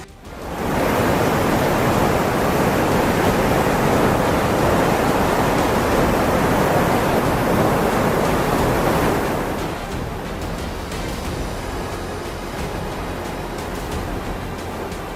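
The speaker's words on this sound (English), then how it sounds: "It's a sobering reminder of the destructive power of water" Turbulent flood water surging out of control, a loud, dense roar that holds steady before dropping to a softer rushing wash partway through.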